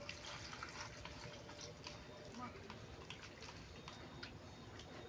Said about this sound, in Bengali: চিড়েটা বেশ ভালো করে ধুয়ে নেব 2-3 বার জল দিয়ে।